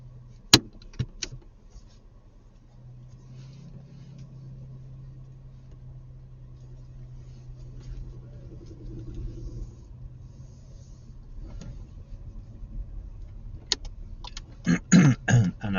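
A car engine rumbles low and steady as it pulls away and drives on during a driving test, with a few clicks and knocks inside the cabin near the start and end.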